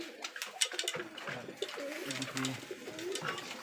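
Rajshahi Giribaz pigeons coo repeatedly on a pigeon farm, their soft, rhythmic low calls close by, with light bird chatter and rustling mixed in.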